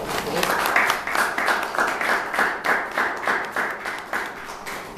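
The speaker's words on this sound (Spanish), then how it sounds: "Pues un aplauso para Isabel" Audience applause after a math talk on prime numbers, a burst of clapping that rises then thins into scattered claps, with voices talking over it.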